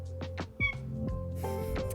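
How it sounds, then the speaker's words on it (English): A pet cat meows indoors, a few short soft calls with rising and falling tones scattered across under two seconds, fairly quiet and close. "That is my other cat."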